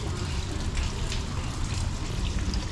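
Water splashing steadily in an outdoor stone fountain at the Summerhouse grotto on the Capitol grounds in Washington DC, a continuous close rushing wash with no pauses.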